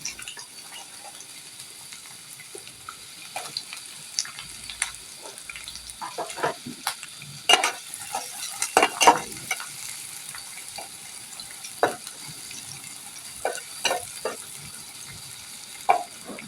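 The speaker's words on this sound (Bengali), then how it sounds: "পেঁয়াজ কিছুটা ভাজা হয়ে আসলে" Chopped onions fry in oil with halved dried chillies, giving a steady soft sizzle broken by sharper crackles and stirring scrapes, loudest around the middle and fairly close.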